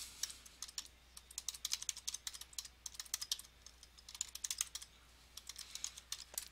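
Quiet, quick keystrokes on a computer keyboard tap out in irregular bursts of light clicks, close and alone without any voices.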